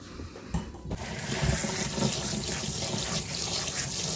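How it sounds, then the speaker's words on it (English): Cold running tap water splashes steadily over shrimp in a strainer in a sink, starting softer and growing into a continuous broad rush for several seconds. "put the shrimp in there and rinse it over cold water to get it clean"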